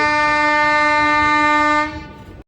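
A long, loud, steady horn blast from the Haldia–Asansol superfast express arriving at Kharagpur junction holds for nearly two seconds, then fades and cuts off.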